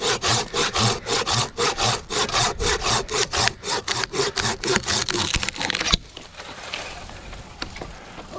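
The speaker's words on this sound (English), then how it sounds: "I'm just gonna use my handsaw on this because I'm so close to my stuff" A handsaw cuts through a dead tree trunk in steady, loud back-and-forth strokes, roughly two per second, for about six seconds before stopping abruptly, leaving quiet outdoor ambience.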